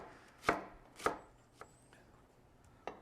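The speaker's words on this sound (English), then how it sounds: "we're just going to take the fennel and shave it nice and thin" A knife shaves a fennel bulb thinly on a cutting board: two firm close chops, then two lighter slices after short pauses, in a quiet room.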